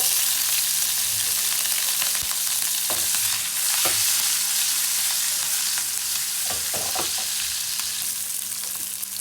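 Cumin, mustard seeds and green chillies fry in hot oil in a pan, giving a steady close sizzle with scattered pops and crackles as the seeds burst, plus occasional stirring clatter throughout, no voices.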